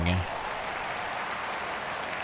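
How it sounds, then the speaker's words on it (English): Crowd noise from a baseball video game, Marlins against Dodgers in the playoffs, a broad steady roar of fans cheering that holds at an even level for the whole stretch. "Why are the fans cheering?"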